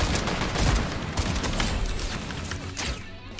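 Rapid bursts of gunfire from the Fortnite video game crackle in dense, overlapping volleys, moderately loud and continuous, with no voices over them.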